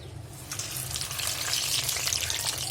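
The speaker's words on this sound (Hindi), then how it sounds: "तो पीनट्स को टिके हमें फ्राई कर दवा" Peanuts frying in a kadai: a quiet crackling sizzle builds and grows denser over a low background hum, with no voices.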